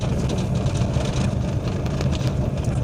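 Car engine running at low speed in a high gear, giving a steady, loud low rumble and vibration drone close by, with no voices over it.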